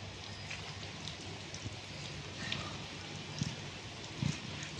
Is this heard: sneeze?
no